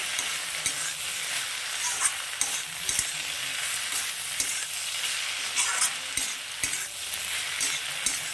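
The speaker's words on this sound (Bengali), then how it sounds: "এবার এটাকে আমি আর একটু ভেজে নেবো" Fish head with snake gourd fries in a pan, a constant hiss of oil under repeated clinking and scraping stirs at an uneven rhythm, close and fairly loud with no talking.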